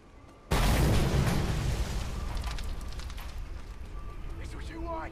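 A massive explosion erupts in the Mad Max video game, a sudden loud boom that hits at once and rolls into a long, dense rumble of debris and fire, fading slowly with faint game effects beneath.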